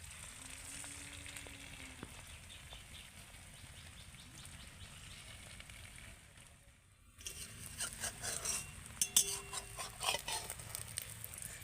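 An egg frying in a kadai for egg cutlets, a soft sizzle that turns busier and crackling after a brief pause, close and fairly quiet, with faint tapping of a utensil.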